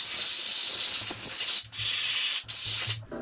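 Aerosol brake cleaner hisses from a can into an LS engine during oil pan and valve cover work, in several loud sustained bursts with brief pauses between them.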